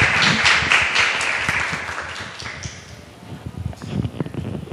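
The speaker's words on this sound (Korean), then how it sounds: "박수 부탁드릴게요" Audience applause at a book talk radio-style event, a crowd clapping together loudly at first and then gradually thinning, with scattered individual claps continuing near the end.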